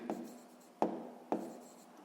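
A pen writes on paper during a sixth-grade maths exercise, making three short, close scratching strokes in quiet surroundings.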